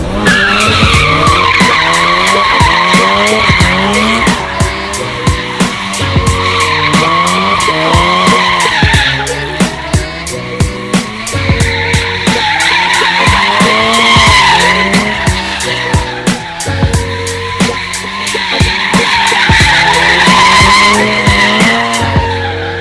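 A car doing donuts screeches its tires in loud, continuous skids and spins, the squeal rising and falling in waves over a revving engine, close and relentless.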